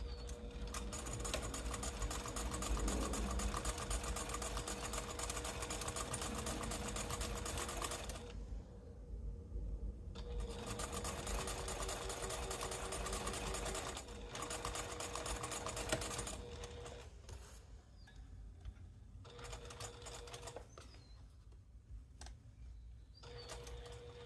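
Sewing machine stitching reinforcing seams at the corners of a cork pouch, a steady close whirring hum with rapid needle ticking that runs in long stretches, stopping briefly twice before resuming.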